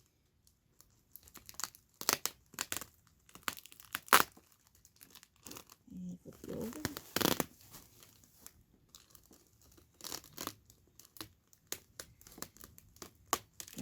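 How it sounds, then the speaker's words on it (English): Tape peeled slowly off a plastic bag produces sporadic close crinkles and sharp tearing rips between quiet gaps, with a few soft spoken words. "see if we could take your tape off without ripping the bag"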